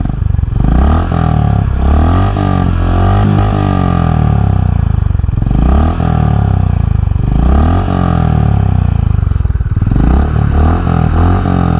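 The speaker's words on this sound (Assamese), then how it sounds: "লেট মি মেক ইউ হিয়াৰ দি এক্সষ্ট নোট নাও" A loud, close Honda CB350RS motorcycle exhaust running steadily, its throaty note swelling in repeated rev cycles for the whole stretch.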